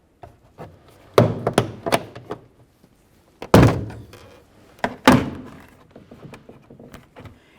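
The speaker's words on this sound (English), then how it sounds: "We'll make our way in between the door panel and the door and gently pry it apart." Several sharp thunks and knocks of a plastic rear interior door panel being pried off the metal door of a 2003-2007 Honda Accord, irregular and close, with quiet gaps between the louder hits.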